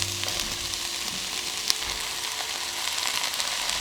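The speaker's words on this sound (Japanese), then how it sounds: "玉ねぎが透き通ってきたら、他のお野菜も加えていきます。" Onions and other vegetables sizzle steadily in an oil-free pan, a constant bright frying hiss with faint stirring scrapes, close and continuous with no talking.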